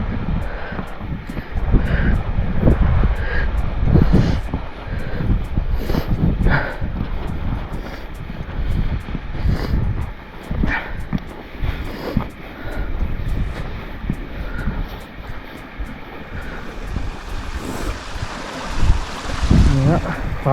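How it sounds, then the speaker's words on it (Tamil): Continuous rushing water of a stream running down a coastal path near Mwnt beach, Wales, a broad steady roar with uneven surges, fairly loud and close, with no one speaking. "தண்ணி ஓடுற சவுண்டு கேட்குது பாருங்க."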